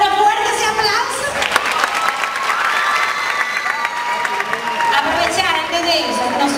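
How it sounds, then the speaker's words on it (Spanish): A crowd at a dance show gives loud applause mixed with cheering and children's shouts, lively clapping under a continuous layer of excited voices. "Pero fuerte ese aplauso."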